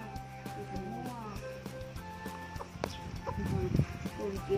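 Chickens clucking and a rooster crowing at a rural village home in Surin, Thailand, mixed bird calls over a steady outdoor background that grows busier toward the end, with some voices faintly present.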